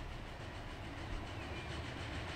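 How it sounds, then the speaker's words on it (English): Short train rolling on rails in Transport Fever, a steady faint rumble with soft rhythmic clatter of wheels over track joints. "It's not a long train, though. Ooh, I like the sound of it."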